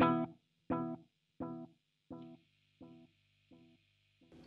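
Guitar played through an Ammoon Pockmon multi-effects unit on its tape echo setting: a single plucked note repeats about seven times at an even pace, each echo quieter and duller than the last, with no voices.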